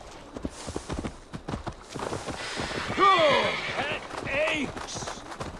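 Hollow hoof clip-clops trot along in a steady rhythm in Assassin's Creed Valhalla, close by, with a horse whinny partway through and light voices underneath.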